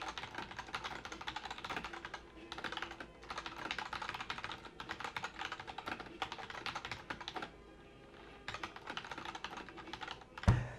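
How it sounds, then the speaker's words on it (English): Continuous typing on a mechanical keyboard with red switches, quick clacky keystrokes in bursts with short pauses, heard close up. "you guys can hear more or less what I would hear when I'm typing on this keyboard"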